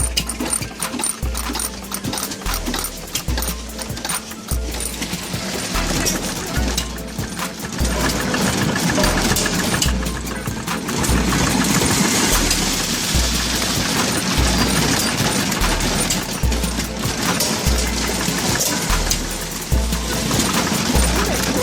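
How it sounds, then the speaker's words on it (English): An old hit-miss stationary engine runs nearby, giving off a steady, loud rhythm of thumping firing beats with clattering mechanical noise between them. "these hit-miss motors are used in a variety of different applications"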